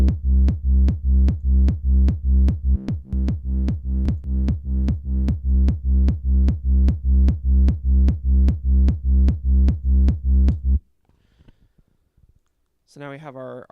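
A reverse bass layer for a hardstyle-style track, its highs scooped out, pulses in a steady, loud, rapid rhythm of repeated bass hits for about eleven seconds, then cuts off, leaving near silence and a brief faint sound at the end.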